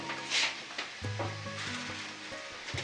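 Carrots and onions stew in a pan with a soft, steady sizzle, joined by a brief clinking stir near the start and low rumbling handling noises throughout; no one speaks.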